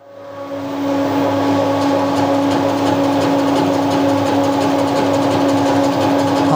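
Milling machine runs steadily, taking a half-millimetre cut on a milling vice fitted with a new alloy steel screw: a loud, constant mechanical whine with a strong tonal hum, ramping up over the first second and then holding even.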